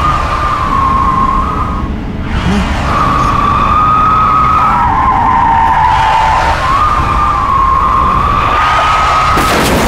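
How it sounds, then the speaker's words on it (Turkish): A car brakes hard, its tires letting out a long, wavering skid squeal that runs for about ten seconds, loud and close, with a couple of rough bursts of impact noise and no speech. "Öndeki de yani fren yapınca görünmez kaza oldu."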